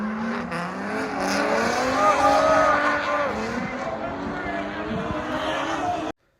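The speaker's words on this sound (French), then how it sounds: "Concentrez-vous sur le bruit de mon moteur et son moteur" Racing car engines roar and whine together, their pitch climbing and shifting steadily before cutting off abruptly near the end.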